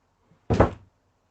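A single door closes with a short, solid thud-like bang and a brief rattle, loud and close, in an otherwise quiet room.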